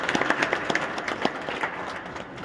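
Audience at a doctors' Unani medical conference in Delhi claps in warm, dense applause, loud and close, a burst of many hands with no voices over it.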